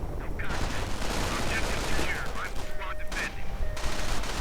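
Sustained small-arms fire from an infantry fight between Volksgrenadiers and riflemen in Company of Heroes, dense overlapping shots, while a commentator talks over it.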